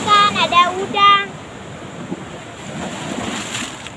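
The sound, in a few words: strong ocean waves on the shore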